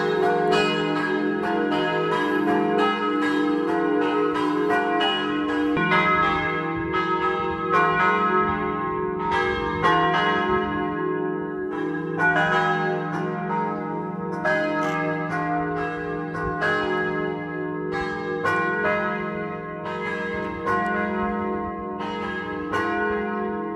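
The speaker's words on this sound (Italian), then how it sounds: "mentre sfuma il suono delle campane" Church bells in Friuli, Italy, peal continuously, overlapping rings ringing out loud and steady with no pauses, no voices.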